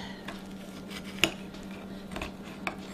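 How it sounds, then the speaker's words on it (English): A utensil clinks and scrapes against a pie dish while slicing into a still-warm Japanese fruit pie, a few soft, close taps over a low steady hum. "I'm ready to dig into this Japanese fruit pie, so I'm gonna cut it"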